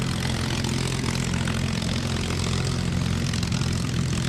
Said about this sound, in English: The P-51, known as Rise Above, the Tuskegee Airmen.